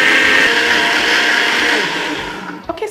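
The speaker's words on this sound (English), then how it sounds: "I'm just going to blend this all up" A blender whirs steadily at full speed, pureeing broccoli florets for a green detox smoothie, loud and close, then winds down with a few knocks as it stops.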